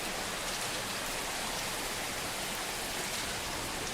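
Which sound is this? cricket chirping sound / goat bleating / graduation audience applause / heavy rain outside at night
heavy rain outside at night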